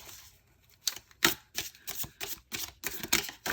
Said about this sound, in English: I'm going to start off by shuffling some tarot cards for you.